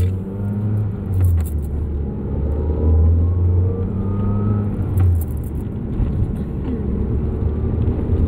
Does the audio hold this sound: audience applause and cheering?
no